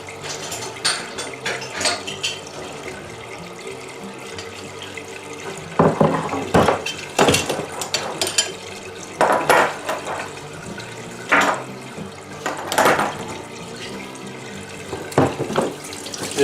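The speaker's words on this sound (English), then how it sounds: "Give it a good rinse." Tap water runs steadily while metal parts of a still are rinsed in a sink, with irregular louder splashes and clinks of the pieces being handled close by.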